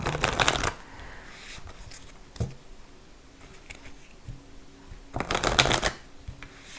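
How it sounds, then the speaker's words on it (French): Oracle cards being shuffled by hand for a tarot-style reading: two loud, close riffling bursts at the start and end, a brief soft tap between them, and quiet room tone in the gaps. "bien brasser les cartes quand même"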